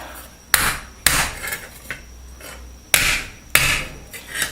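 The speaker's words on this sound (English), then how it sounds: "hammer it out flat here" A length of copper pipe struck with a hammer to flatten it, giving four loud, sharp metallic blows at irregular intervals with ringing decay and faint knocks between, close up and with no voices.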